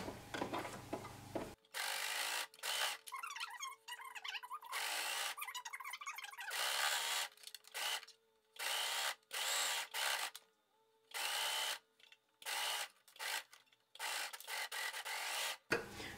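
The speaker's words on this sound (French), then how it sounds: "Je le fais ici à la surjeteuse, mais c'est exactement pareil si vous le faites à la machine à coudre" An overlock serger stitches fabric seams for a simple women's shorts project, sounding as a loud mechanical whir in repeated short bursts of a second or two, separated by brief pauses, with no talking.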